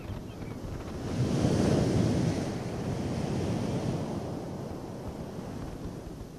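Atlantic Ocean waves surge below sheer sea cliffs, a broad continuous roar of surf mixed with wind buffeting the microphone, swelling louder for a moment before easing back.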